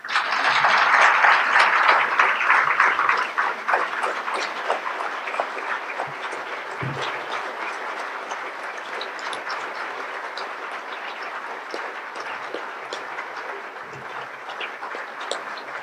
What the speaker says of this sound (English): Would you all please give a rousing round of applause to Taylor Larimore?